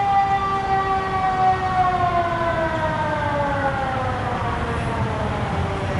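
An emergency siren sounds from outside a park, a loud wailing tone sliding steadily downward over a constant rumble of traffic, sustained for the whole stretch with no talk.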